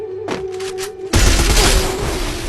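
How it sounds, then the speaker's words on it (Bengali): In a BGMI/PUBG-style shooter game, a few quick gunshot cracks over a humming tone give way to a sudden loud grenade blast whose rumbling, crackling tail fills the rest of the moment. "গ্রেনেড আছে গ্রেনেড ফাটবে কিন্তু"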